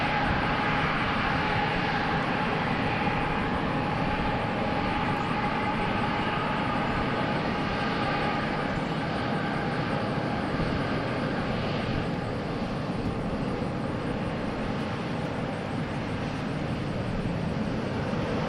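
An airliner at DFW airport makes a gradual takeoff roll, its engines a constant, broad roar heard from a distance that holds steady throughout without voices.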